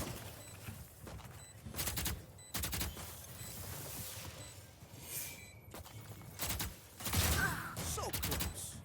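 Rifle and pistol fire in a Valorant match at a LAN tournament: several loud bursts of close gunshots in irregular clusters, with footsteps and game effects between them.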